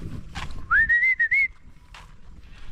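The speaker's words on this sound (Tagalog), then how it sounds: "narinig na naman ang sipol ni Papa" A man whistles a single clear rising-and-wavering tune for under a second, loud and close, set against quiet outdoor background noise on a hot day.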